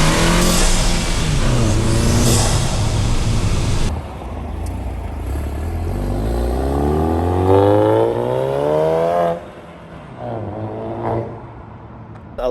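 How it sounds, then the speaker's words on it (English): Volkswagen GTI with an IS38 turbo upgrade accelerating hard to around 6,000–6,500 rpm redline, engine note rising steadily under boost, loud and close, with a gear change partway and a brief lift near the end. "The way how it kicks in with boost and how it just pulls all the way to redline there to 6 grand"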